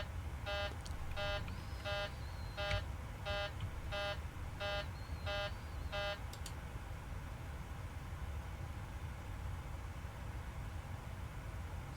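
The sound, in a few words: aircraft cockpit alarm warning that air conditioning is off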